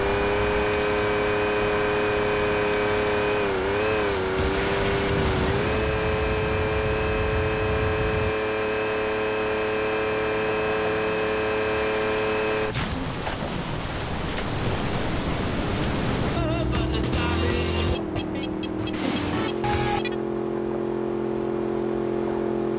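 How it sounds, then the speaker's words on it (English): Fast cars racing and performing stunts around an airport in Saints Row with low gravity, engines droning and revving steadily at close range, a loud burst of roaring noise partway through, with shifting tones and no talk. "A few more stunts at the airport with fast cars and the low gravity cheat."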